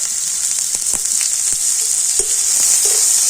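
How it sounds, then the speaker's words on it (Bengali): Chopped garlic and finely minced onion frying in hot oil in a pan, a loud continuous close sizzle with a few soft stirring scrapes and taps scattered over it. "আর এবার আমি রসুন আর পেঁয়াজটা একটু লাল করে ভেজে নেবো"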